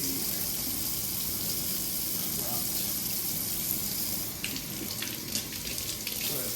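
Running water pours steadily over a K&N air filter as it is rinsed in a sink, a loud, even rush with brief splashy disruptions near the end.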